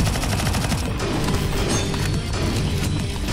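Dense, continuous gunfire from CS:GO zombie escape, a loud unbroken barrage of overlapping shots with crashes, filling the whole stretch without pause.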